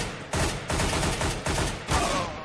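Rapid gunfire in Counter-Strike: Global Offensive on Xbox 360, four loud close bursts of automatic shots separated by short gaps.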